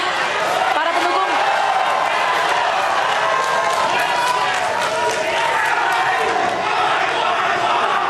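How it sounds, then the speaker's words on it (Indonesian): Supporters at a presidential election debate applaud and cheer loudly, a dense, continuous roar of clapping and shouting crowd voices close by, with speech mixed in throughout. "kita beri tepuk tangan yang meriah para pendukung"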